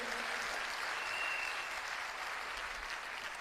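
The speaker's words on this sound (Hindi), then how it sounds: "मैं चाहूंगा एक बार तालियां जोरदार" Audience applause for a company founder and chairman at a direct-selling business event, a steady wash of many hands clapping at moderate distance, sustained evenly throughout with no voices over it.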